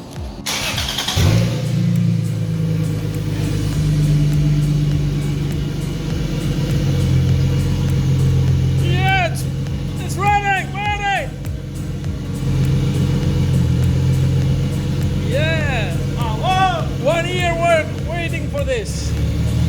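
A Subaru BRZ with a 2JZ engine swap idles loudly and steadily after transmission oil is added, a deep close rumble under overlapping talk, with high whining squeals rising and falling in bursts midway and near the end.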